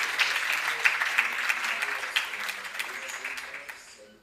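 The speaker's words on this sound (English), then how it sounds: "And a round of applause for Jorge." Audience applause after a conference keynote, a brief burst of hall clapping with sharp individual claps that fades out over a few seconds.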